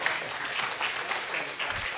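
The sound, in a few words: audience applause at poetry mushaira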